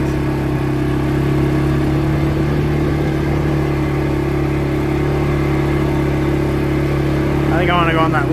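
A 2022 CForce 500 ATV crawling in low gear on a high mountain desert trail gives a steady, close engine drone that holds even throughout, with a slight rise in revs near the end.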